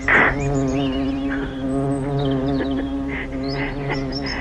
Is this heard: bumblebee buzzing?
yes